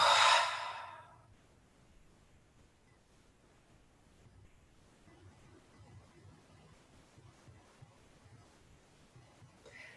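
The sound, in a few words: deep breath exhaled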